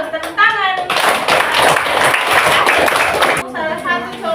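A primary-school class claps together in a classroom, a loud burst of rapid hand clapping lasting about two and a half seconds, with a teacher's voice just before and after.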